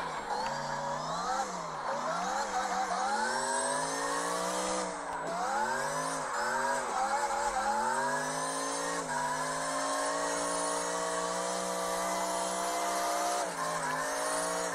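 A Corvette in a racing video game played on a Steam Deck, its engine revving continuously with rising and falling pitch as it shifts through gears, loud and steady throughout with no talking.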